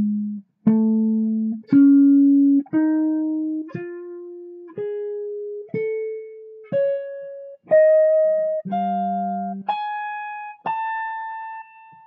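Jazz guitar playing a Lydian augmented pentatonic lick, about a dozen clean single notes stepping upward one after another, each ringing and decaying, close and alone.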